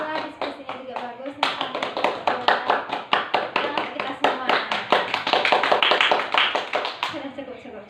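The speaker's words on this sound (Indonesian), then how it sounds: "tepuk tangan untuk kelompok 1" A classroom of students clapping hands for a discussion group, a loud, even run of claps lasting several seconds, with voices talking before it starts and after it ends.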